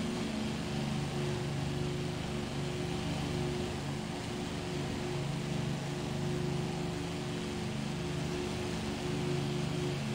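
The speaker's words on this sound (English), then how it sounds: "I'm hearing different engines again." Lancaster bomber engines droning in a flight combat game, a steady, loud multi-engine hum that holds unbroken throughout with no talking.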